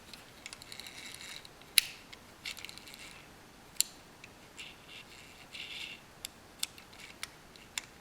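Faint, quiet clicking of a Shimano fishing reel's anti-reverse ratchet as the freshly lubricated mechanism is turned, with scattered sharp ticks and clicks over a low hiss and no talking.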